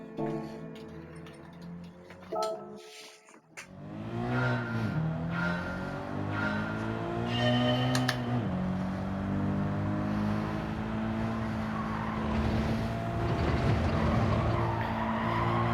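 A race car laps a track in Gran Turismo 7, its engine rising through the gears with a strong revving whine, then squealing tyres and skids through the corners. It plays loud and close with no talking over it.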